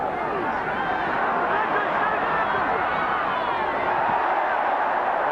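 A rugby league crowd at a 1992 New Zealand versus Great Britain match cheers a tackle, a loud sustained roar of many voices with babble and shouts mixed in, steady throughout.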